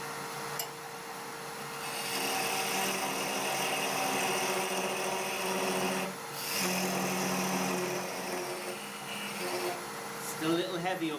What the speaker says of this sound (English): Parting tool.